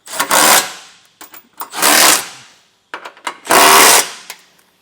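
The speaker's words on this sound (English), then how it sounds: "Then we'll just run our bolts down tight and then come back through and torque them down." A power tool drives trailer hitch bolts tight during a receiver install on a 2024 Toyota Highlander, in three loud, close bursts of about a second each with brief clicks and pauses between.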